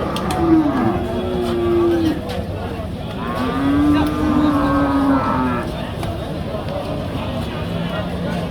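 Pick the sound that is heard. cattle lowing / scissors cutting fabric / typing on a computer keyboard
cattle lowing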